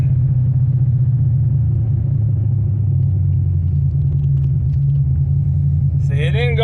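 Car with an AOD automatic transmission driving along in second gear at around 30 mph, a loud, steady low engine and road rumble inside the cabin, with someone talking over it near the end.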